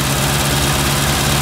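A 1959 Triumph TR3 engine idles roughly as it struggles to hold idle while cold, a loud, steady low drone with a constant hum and a faint uneven flutter, close up and with no voices.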